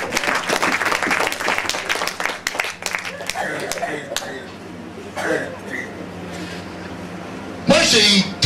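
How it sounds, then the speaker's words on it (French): Audience in a church service applauding with dense, sustained clapping that tapers off, mixed with coughs and a preacher's voice; a brief burst of clapping returns near the end. "Applaudissez."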